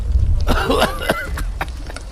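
A man coughs loudly in several harsh, raspy bursts against a noisy background, in a cartoon.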